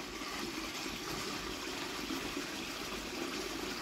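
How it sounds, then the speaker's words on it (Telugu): Irrigation water runs steadily into a village paddy field, a continuous close rushing and trickling flow with no pauses. "చూడండి నీళ్లు వెళ్తున్నాయి."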